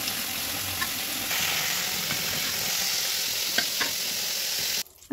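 Fish fries in hot oil in a wok with a loud, constant sizzle and scattered pops, holding steady up close before cutting off abruptly near the end.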